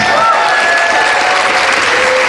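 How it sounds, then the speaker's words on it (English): Audience applause for a guest at a morning motivational business event, a loud, steady wash of many hands clapping throughout, with faint crowd noise and no clear talk. "Let's give Eric Worre a tremendous round of applause"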